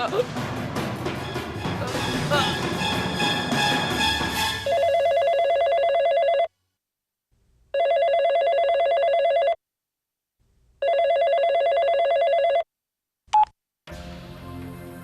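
A telephone rings in three long electronic bursts separated by silent gaps, following a stretch of music, with a brief blip near the end.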